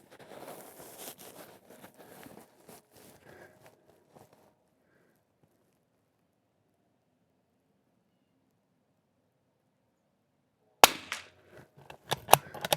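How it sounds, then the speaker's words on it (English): A Super BRNO SAA 2500 rifle fired off a bipod lets out a sharp, abrupt crack after a long near-silent stretch, followed by scattered clicks and rattles, with faint crackly handling noise earlier on. "we intend to shoot 15 rounds, see how it shoots"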